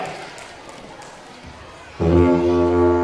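A didgeridoo starts playing at a kids' school assembly show: after two seconds of crowd murmur, a loud, steady droning tone with strong overtones fills the room close up.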